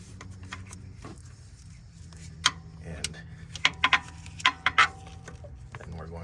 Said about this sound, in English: Got a 15mm socket. We're just going to get it on the tensioner pulley.